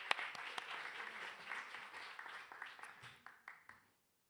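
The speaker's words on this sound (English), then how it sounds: "Let's give Andre a round of applause, please." Audience applause for a guest speaker at a procurement talk, a dense patter of many hands that swells briefly and then thins into scattered claps before fading out.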